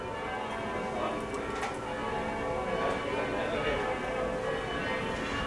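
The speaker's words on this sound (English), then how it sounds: "just fired up the church bells." Church bells ring at a distance as a steady, continuous peal blended into outdoor ambience, with no clear separate strikes standing out.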